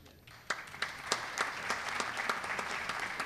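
Applause from an audience at an inauguration ceremony for a Brazilian administration council, rising after a brief hush into steady, dense clapping with a few sharper individual claps standing out.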